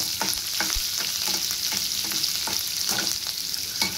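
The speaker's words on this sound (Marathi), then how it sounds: "आता आपण त्याच्यामध्ये 1 चमचा जिरे, 1 चमचा मोहरी छान असा आपण तेलामध्ये अर्धा मिनिट परतून घ्यायचं आहे।" Cumin and mustard seeds sizzling and crackling in hot oil, a steady close frying hiss with small pops and occasional stirring scrapes throughout, no talking.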